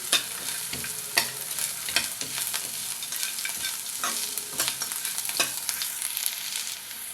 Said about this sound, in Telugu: అల్లం వెల్లుల్లి పచ్చివాసన పోయేంత వరకు వేయించుకుందాం ఇవన్నీ నెయ్యిలో వేగుతుంటే మంచి ఫ్లేవర్ వస్తుంది